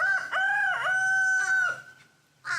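A rooster crows nearby, a loud, clear cock-a-doodle-doo in several drawn-out syllables, followed by a brief squawk at the end.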